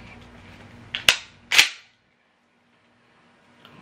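A Mossberg 500A pump-action shotgun is racked back and forward, making two sharp, loud close metallic clacks about half a second apart, followed by quiet.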